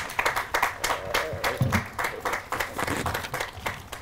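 Audience clapping at an outdoor Memorial Day ceremony, a moderate round of individual claps with a fairly quick, uneven rhythm, not very dense, heard at moderate distance and sustained for the whole stretch.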